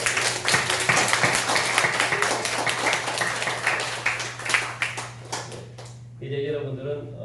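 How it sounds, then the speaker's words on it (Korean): A church congregation claps after a baptism during Sunday worship, a dense run of hand claps over a low steady hum that fades out, followed by a voice starting to speak. "우리 박수 한번."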